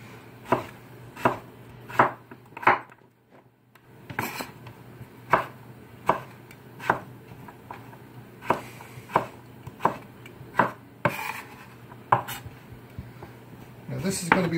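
A knife chops down through a butternut squash on a cutting board. About fifteen sharp, close knocks come in a steady rhythm, with a short pause after the first few. A voice talks faintly underneath.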